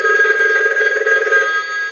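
A Mickey Mouse animated novelty telephone rings in demo mode, a loud, sustained electronic bell trill, close and unbroken for about two seconds.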